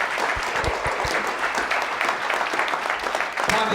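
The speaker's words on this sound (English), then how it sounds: "I get a round of applause to MC" Audience applause at a business conference in Sydney for the MC, dense sustained clapping from a large crowd filling the room throughout, with a few louder nearby claps standing out.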